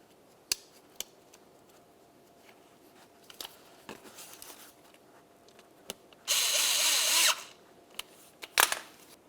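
A power drill drives a mounting screw into a 2012-2017 Toyota Camry grille, with one loud, close whirring burst of about a second, set among scattered clicks and handling knocks of plastic parts.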